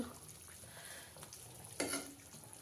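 Potato and cauliflower cook quietly in a pan, giving a soft, faint sizzle with one brief louder scrape of a spatula partway through.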